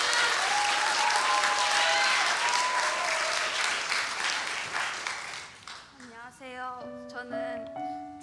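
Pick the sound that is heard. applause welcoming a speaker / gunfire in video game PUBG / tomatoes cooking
applause welcoming a speaker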